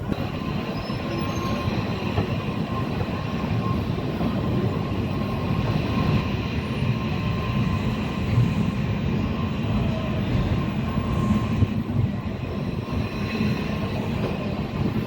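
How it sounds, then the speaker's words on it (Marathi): The Dhanbad–Kolhapur Dikshabhoomi Express rolling steadily along the tracks after leaving Miraj Junction, a constant low rumble with faint rhythmic wheel clatter and occasional squeal, heard from inside a carriage. "अकरा वाजून एकोणचाळीस मिनिटांनी मिरज जंक्शनवरून आपली ट्रेन निघालेली आहे"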